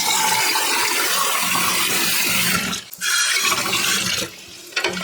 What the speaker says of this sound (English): And now we top it up with water.